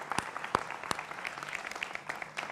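A studio audience at a televised Hindi political debate show breaks into steady applause, dense clapping running throughout with a few sharper claps standing out, no voices over it.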